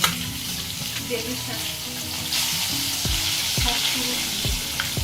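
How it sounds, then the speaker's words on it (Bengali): Large pieces of katla (rohu-type) fish sizzle and fry steadily in hot oil in a home kitchen pan, a continuous close crackle with a few stirring or utensil knocks toward the end, no talking. "মাছের বড় বড় টুকরোগুলো চলে যাবে হচ্ছে তেলের মধ্যে দিয়ে দাও ভাজার জন্য"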